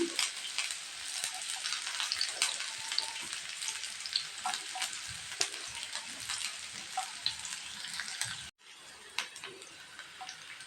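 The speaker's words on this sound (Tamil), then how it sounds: "இப்போது வெட்டி வச்சுருக்கேன் வெங்காயத்தை சேர்த்துக்கலாங்க" Chopped onions frying in a pan for an avaraikkai poriyal, a steady close sizzle with crackles and occasional stirring scrapes, ending abruptly as the hiss drops away; no talking.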